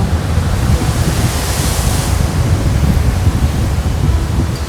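Sea waves break and splash on Kasheli beach near Rajapur, a loud continuous rush of surf mixed with wind buffeting the microphone, with no voices heard.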